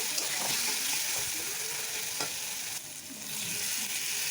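Ground spice paste with fried onions and tomato sizzling in a pan, a steady close frying hiss with a few soft stirring scrapes and a brief dip midway.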